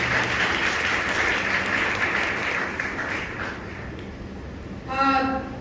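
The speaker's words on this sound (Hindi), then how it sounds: "जरा तालियां बजा दें खुदा के लिए।" A church congregation claps for God, a dense burst of applause that gradually fades over several seconds, ending with a short rhythmic flourish of claps.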